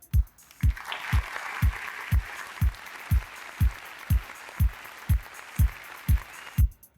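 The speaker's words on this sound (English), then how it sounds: "Let's welcome the winners with a thunderous round of applause." Awards-ceremony crowd at a beverage-industry gala applauds the winners with steady, sustained clapping, punctuated by regular low rhythmic thumps throughout.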